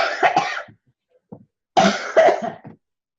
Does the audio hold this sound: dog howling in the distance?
no